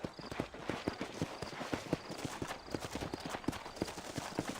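Horse hooves clip-clop at a steady gallop in the video game Red Dead Redemption, a quiet, even drumming rhythm heard alone.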